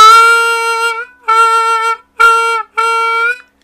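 Four sustained harmonica notes on the 3-draw, played with an adjusted airstream and mouth shape for a half-step bend; a rich harmonic tone, close and loud, in separate held phrases with short gaps and no talking.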